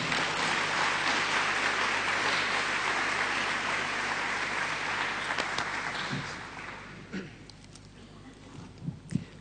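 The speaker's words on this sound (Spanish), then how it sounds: "Demos un fuerte aplauso de ánimo." Church audience applauds a preacher with sustained, dense clapping from many hands that gradually thins out into scattered individual claps, fairly soft and a bit distant.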